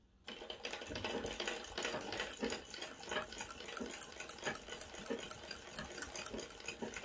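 Antique Singer sewing machine running steadily as it stitches fabric, a continuous rapid mechanical chatter close to the listener, with no one talking.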